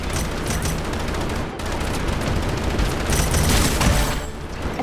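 Gunfire from a gun in the shooter Strinova comes as rapid, loud, sustained bursts that pause briefly and then resume, with booming impacts mixed in.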